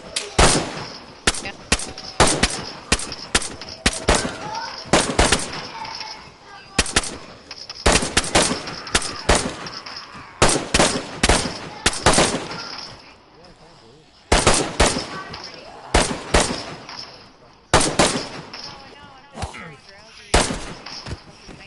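Unsuppressed gunfire in a video game rings out in rapid bursts and rattling automatic volleys, loud and close, with brief pauses between strings of shots and some voices mixed in.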